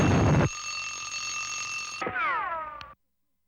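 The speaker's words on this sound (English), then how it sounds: "the alarm went off" A cartoon alarm clock rings loudly and steadily for a couple of seconds, then the bell slides downward in pitch and cuts off abruptly into silence.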